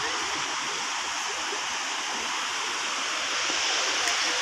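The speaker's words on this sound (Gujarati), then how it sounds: "નદીમાં ખાસ્સું પાણી છે." A river flows with plenty of water beside a temple at a scenic spot, giving a steady, full rushing wash that stays even throughout.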